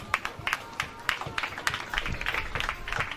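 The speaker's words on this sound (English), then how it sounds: "A round of applause for him." Scattered clapping from a small audience at a Nigerian college event, sharp claps spread unevenly and thickening toward the end, moderately loud with some murmur underneath.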